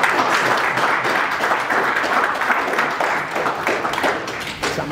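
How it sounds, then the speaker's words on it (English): An audience at a tech meetup gives a sustained round of applause, dense, steady clapping throughout, loud and filling the room, with no talking over it. "big round of applause to Jeff"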